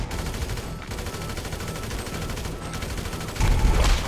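Dense, continuous gunfire from GTA 5 in a competitive Power Play match, sustained bursts throughout with a louder, heavier volley near the end.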